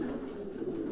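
A racing homing pigeon coos inside a loft, a low, continuous throaty murmur that stays close and fairly loud for the whole second with no talking over it.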